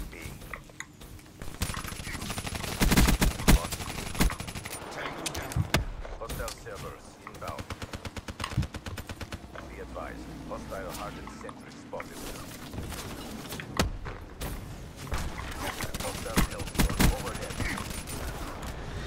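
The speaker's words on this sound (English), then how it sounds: "Why was that sentry gun shooting at me the entire time?" A sentry gun fires in Call of Duty Black Ops 3, making a dense, continuous chatter of automatic shots amid the game's noise and effects, while people talk over it.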